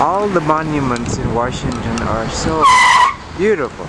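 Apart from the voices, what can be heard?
car tires screeching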